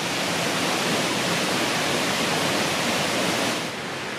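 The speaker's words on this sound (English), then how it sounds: "The waterfall will have to do." A waterfall beside a wild camping spot, a dense continuous rushing roar of falling water, loud and close throughout, with no voices.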